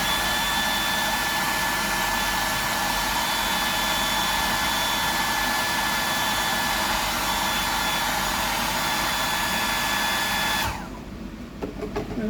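A hair dryer drying paint on a handmade fishing lure, blowing with a steady, loud whoosh and whine for about eleven seconds before switching off abruptly.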